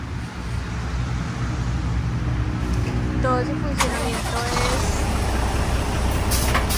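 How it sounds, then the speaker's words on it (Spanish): A Foton Auman 36-ton four-axle dump truck, built for construction and mining work in Colombia, raises its bed with a steady, close diesel rumble that carries through the clip while someone talks over it. "ahora vamos a ver cómo es que sube este volco"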